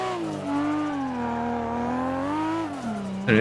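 A race car engine in Assetto Corsa revs high and holds a loud, steady drone that rises and dips in pitch, then drops off, with a brief burst of noise at the end.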